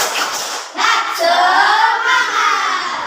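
A class of schoolchildren standing in a classroom do the rhythmic Tepuk Semangat clap, with sharp claps near the start and then a loud, sustained chorus of young voices chanting over the clapping.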